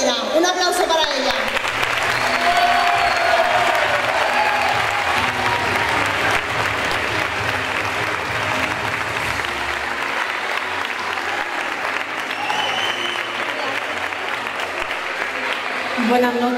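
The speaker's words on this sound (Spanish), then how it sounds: "Un aplauso para ella." Audience at a Spanish Partido Popular campaign rally for the May 2023 local elections breaks into loud, sustained applause that fills the hall continuously, with some crowd noise and voices mixed in.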